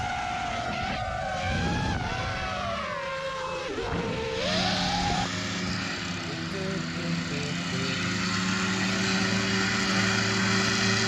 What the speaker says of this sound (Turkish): Drone'un sesi çok rahatsız değil mi ya?